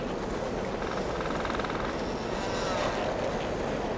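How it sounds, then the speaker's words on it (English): A steady, rushing gust of wind buffets a ship's engine in a sky-faring video game, a continuous broadband roar with no breaks. "Ah, the peacock wind buffets your engine."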